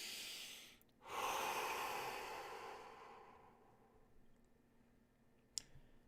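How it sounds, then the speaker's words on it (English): A long, deep breath out during a guided meditation session, a soft airy exhale swelling then slowly fading over several seconds, close and quiet, followed by near silence and a single faint click. "deep breath out."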